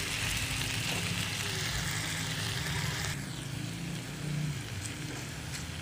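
Garlic and onion hitting hot oil in a frying pan while cooking pork hamonado with chorizo, a loud, dense, steady sizzle filling the whole stretch close up, with a slight shift in tone partway through.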